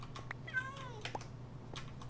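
A cat meows in a survival video game, a quiet wavering cry of several rising and falling notes in the middle, over a low steady hum and faint clicks.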